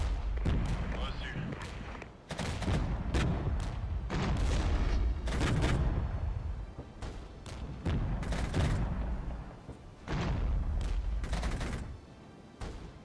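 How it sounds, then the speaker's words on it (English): Heavy artillery barrage in the strategy game Regiments: Winds of Change, rumbling booms and dense fusillade-like bursts rolling in repeated waves, loud and sustained, with voices talking over the battle. "renew the barrage"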